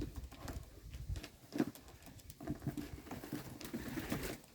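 Yellow Czech show pigeons in a new pigeon loft, soft cooing and fluttery wing patter close by, with shuffling and scratching movements throughout at a low, even level.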